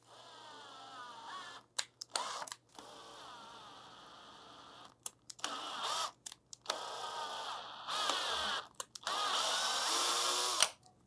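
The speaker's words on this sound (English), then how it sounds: "This is my only M3 tap, which are the screws I'm using, which is power drill operated." A power drill driving an M3 tap into aluminum whirs in repeated bursts, starting and stopping several times, with short pauses and clicks between runs.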